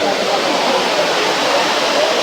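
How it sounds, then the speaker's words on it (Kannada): Jari Falls in Chikmagalur pours down with a steady, close, full rushing roar of falling water that never lets up, spray carrying toward the listener even though the flow is low. "ಅಲ್ಲಿ ಬೀಳ್ತಾ ಇರೋವಂಥ ನೀರು ಇಲ್ಲಿವರೆಗೂ ಬರ್ತಾ ಇದೆ, ಹನಿಗಳು ಬಿದ್ದಿರೋ ರಭಸಕ್ಕೆ."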